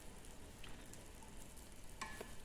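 Chicken breast frying in a pan gives a faint, steady sizzle, with a couple of light scrapes as it is stirred and no talking.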